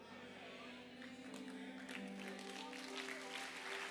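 A church congregation applauding in a sustained wash of clapping, mixed with held organ or keyboard tones underneath throughout.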